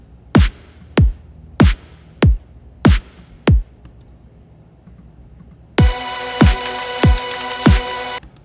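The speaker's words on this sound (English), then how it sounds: "I'm going to turn on this reverb on the snare, and this is going to give it a nice little tail and some space" A programmed drum mix with reverb on the kick and snare: evenly spaced punchy hits with short ringing tails, then a louder passage where the beat continues over a sustained tonal layer, close and dry apart from the reverb.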